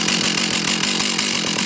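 A Strikemaster Mag 2000 gas ice auger engine runs steadily at a constant buzzing idle, close and loud throughout the brief stretch.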